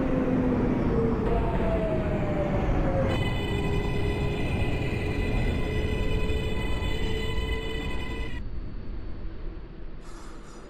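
An R142A subway train on the 6 local line in a rail simulator, running with a steady rumbling roar and rising, whining motor tones that shift pitch as it travels, then fading slightly toward the end.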